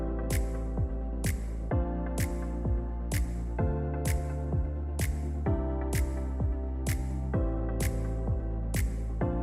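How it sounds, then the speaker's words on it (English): Sonified gravitational waves from a light black hole falling toward a very heavy one: a regular series of sharp metallic bangs, each with a ringing, sliding tone, repeating about every second over a steady drone, with no talk. "The sound you're hearing is a light black hole banging on space each time it gets close."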